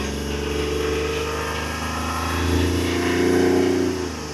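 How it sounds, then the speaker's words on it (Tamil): A 2018 Hyundai Grand i10 engine runs steadily close by, revving up and holding a higher pitch midway before settling again. "வண்டி பாரு, ரேஸ் பண்ணி விட்டு காட்டுற பாரு."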